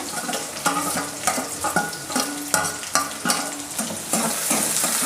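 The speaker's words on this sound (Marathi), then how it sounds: "गुलाबी रंगावर कांदा मी छान असा परतून घेणार आहे" Finely chopped onion sautéing in a pan with ginger-garlic paste for a Maharashtrian bhogichi bhaji, loud continuous sizzle broken by rhythmic spatula scrapes and knocks every half second or so.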